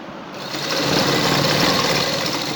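A sewing machine runs steadily while stitching a decorative neck design onto a garment, a loud continuous mechanical whir with no speech over it.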